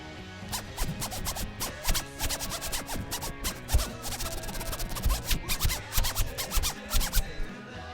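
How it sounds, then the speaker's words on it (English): A zipper is pulled back and forth rapidly over and over, a quick scratchy rasping rhythm that continues steadily throughout. "Do a zipper solo."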